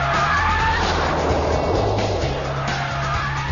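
Jaguar XJR sedan driven hard on a test track for a fast lap, a loud, steady engine roar close to the microphone, with tires squealing through corners and no talking.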